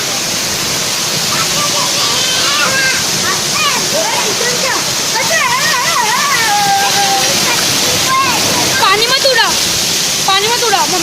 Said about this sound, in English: Now I'm going to throw some water.